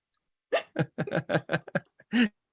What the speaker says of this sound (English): Did you just hiccup too?